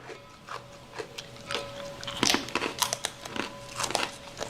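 Homemade freeze-dried jackfruit being bitten and chewed, giving a run of sharp, dry crunches and crinkly crackles close to the microphone, irregular and steady over several seconds with no talking.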